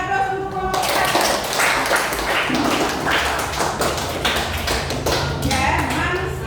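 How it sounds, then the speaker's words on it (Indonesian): A classroom group gives dense, sustained applause for the first group of presenters, clapping loudly and continuously after a brief spoken lead-in. "kita beri aplaus untuk kelompok satu"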